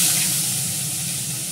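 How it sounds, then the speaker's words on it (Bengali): Onion paste added to a pan of fried potatoes for ghugni, giving a steady loud sizzle and hiss of hot oil with no voices. "এবার পেঁয়াজটা দিয়ে দেবো, পেঁয়াজ বাটা"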